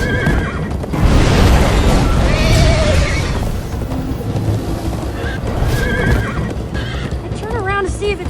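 Horse neighing and whinnying with clip-clop hooves while galloping in the video game Minecraft Story Mode, loud and continuous, with voices talking and music over it; a rising whinny near the end.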